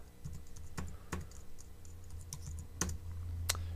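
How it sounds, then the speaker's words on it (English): Someone types a whois command on a computer keyboard in a terminal, with a short run of crisp, irregular key clicks and a few sharper, louder taps, close and alone. "you type in who is space and then do the IP address"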